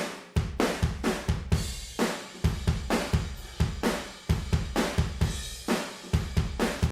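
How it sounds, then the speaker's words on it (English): Room microphone tracks of an emo/pop punk drum kit heard alone, mostly shells with cymbals tucked low: a steady, loud rock beat of booming kicks and snare hits with wide, roomy ambience and no talking. "So the rooms sound like this by themselves"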